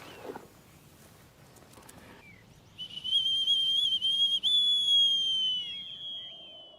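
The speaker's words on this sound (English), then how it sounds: "Hawking whistle. A falconer would use that, call his bird back." A falconer's hawking whistle, dug up full of dirt, gives a shrill sustained piping tone for about three seconds after some faint handling noises, loud and close with a brief dip in the middle.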